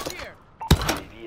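A munitions box set down in a multiplayer shooter video game, a single dull thunk with a short rattle, heard close amid game noise and a voice.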